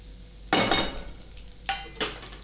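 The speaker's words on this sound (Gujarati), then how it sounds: "પીપરી મૂર છે તે આપણે આવી રીતના ઘીમાં જ ગુંદરની સાથે થોડા શેકી લેવાના છે" Edible gum (gond) roasts in ghee in a pan, with a loud scrape of stirring followed by two shorter stirring strokes against a faint sizzle, close and with no talk.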